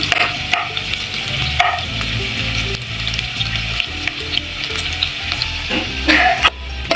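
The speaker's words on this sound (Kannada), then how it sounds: "ಲೋ ಫ್ಲೇಮಲ್ಲಿ ಇಟ್ಕೊಂಡೆ ಫ್ರೈ ಮಾಡ್ಕೊಳ್ಳಿ" Paneer cubes frying in oil on a low flame, with a close, busy sizzle and crackle broken by occasional scrapes and clinks of stirring.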